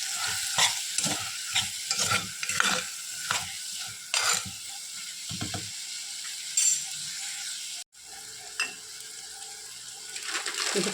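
Potatoes stirred and frying in a pan for a Mangalorean prawn and potato curry: steady rapid scraping and sizzling, close and fairly loud, with brief pauses.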